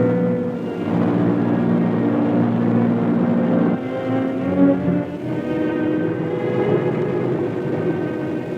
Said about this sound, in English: First reconnaissance planes go aloft to secure valuable photographic data